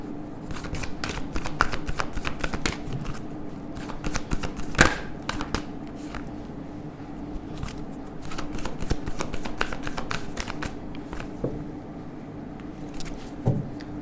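A tarot card deck is shuffled in steady bursts of papery riffling and soft slaps, close and fairly quiet, continuing through the stretch with no one talking.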